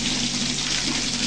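Water gushes steadily from a pipe during a shortage in Andheri, Mumbai, a close, continuous hissing rush with a faint low hum beneath and no voices.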